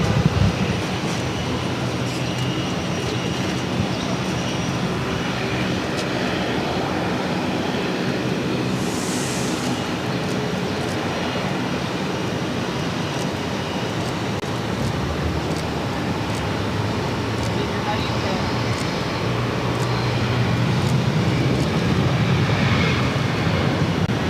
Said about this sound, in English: This is Aer Lingus, flight 137, coming in from Dublin on the A330-300.